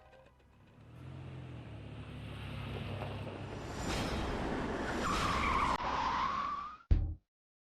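A car pulls to a halt with a rising tire squeal and skid over a running engine, building in loudness before a sharp final stop and silence.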